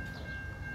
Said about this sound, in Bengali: একটি ট্রেন আসছে